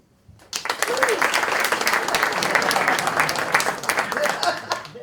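Audience applause at a live Shakespeare improv show fills the room, a dense wash of many hands clapping that starts abruptly and holds steady, with a few voices calling out underneath.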